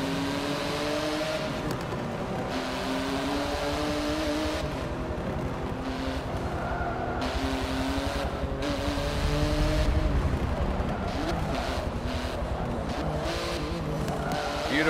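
A race car on a warm-up lap in the Forza Motorsport 7 video game: steady engine roar and revving for the full stretch, with tire squeals and skids, and no talking.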